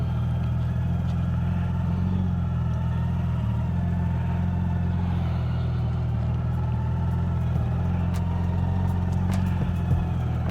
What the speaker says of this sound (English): That Gold Wing reverse. It's just nothing like it.